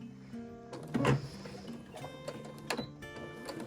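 A sewing machine stitches fabric slowly for a frog plush pattern, giving short, quiet bursts of mechanical whirring with small clicks and pauses between them, close to the listener.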